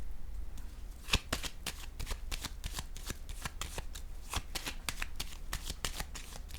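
Tarot-style cards shuffled for a card reading, a fast, steady run of crisp riffling flicks close to the microphone, one sharper snap partway through, with no talking.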